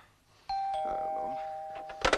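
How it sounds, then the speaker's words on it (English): A front doorbell chimes once, loud and sustained with a two-tone ring, while faint voices murmur and shuffle in a domestic room. "the front door bell is ringing"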